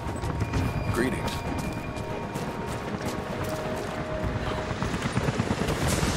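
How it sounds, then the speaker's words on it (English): Helicopters approaching in the video game Rise of the Tomb Raider, a steady broad rotor rumble with dense low-frequency texture holding throughout, fairly loud and constant, with faint tonal game sounds layered above. "helicopters are headed your way."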